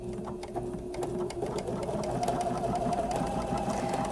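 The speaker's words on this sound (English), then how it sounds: "what I'm going to do is just start stitching down and using those pulled threads as my guide" Sewing machine stitching a pin stitch on embroidery, a steady close mechanical whir with rapid needle ticking that speeds up and continues without pause.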